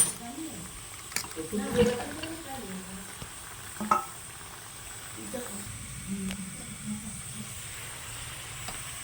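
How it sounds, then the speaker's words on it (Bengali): Potatoes tipped into a pan of sizzling mutton curry: a soft frying hiss with stirring clatter and a few bumps, fairly quiet, while a person speaks over it. "এবার আমি আলুটাকে ঢেলে দিচ্ছি"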